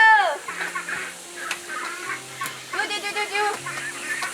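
Ducks at a rural family home give repeated nasal quacks in short bursts, close by, with a few faint background voices.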